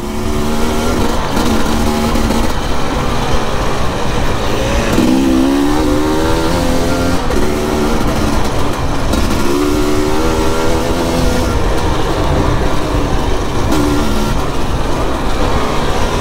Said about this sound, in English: We're riding new bikes on awesome trails in Portugal in autumn.